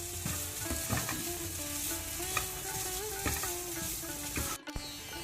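Grated coconut stirred and fried in a pan for Mangalore-style stuffed brinjal, a steady sizzle under repeated scraping strokes of a spoon, with a brief clatter near the end.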